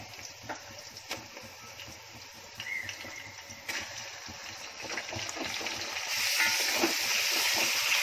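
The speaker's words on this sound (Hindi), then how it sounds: "अब इसमें डालूंगी अपना गोश्त" Mutton frying in hot oil in a pot for Konkani-style pulao, a steady close sizzle and bubbling hiss that grows louder and fuller toward the end, with no talking.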